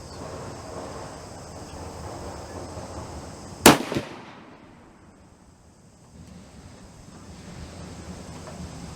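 A single sharp, loud shot from a CVA Optima .50 caliber muzzleloader firing a round ball outdoors, a sudden crack followed by a brief decaying rumble, then quiet ambient insects and wind.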